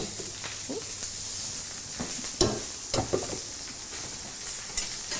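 A spoon stirs salt into a pot of butter beans, making a few distinct clinks and scrapes over a low, steady background hiss, with no voice present.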